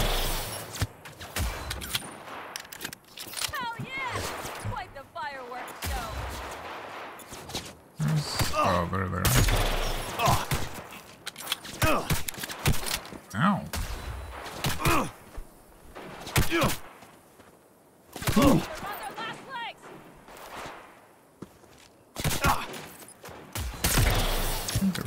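Enemy gunfire in Cyberpunk, shooting through a gas station: scattered volleys and thuds of shots burst out among game effects, with someone talking over much of the action.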